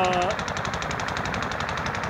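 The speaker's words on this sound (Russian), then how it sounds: "идет стрельба" Rapid automatic gunfire crackles in quick, evenly spaced bursts through a scrapyard scene where two cars are being wrecked, loud and continuous for about two seconds, with a brief whistle-like tone at the start.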